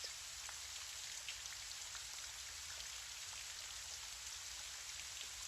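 Gentle rain falls steadily outside a window, a soft, even hiss of drops with faint scattered pattering, heard alone and quietly throughout.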